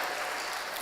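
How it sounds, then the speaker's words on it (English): A hall audience gives a sustained, dense round of applause for the panel guests at a Nigerian Bar Association state-of-the-nation dialogue in Abuja, steady and loud with no voices over it. "Please, let's give them a resounding Abuja round of applause."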